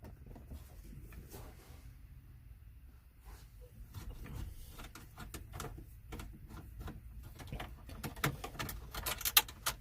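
Screws are worked loose from a car radio in a 1999 Toyota, producing quiet, close ticking and ratcheting clicks that grow denser and busier toward the end, with no voices.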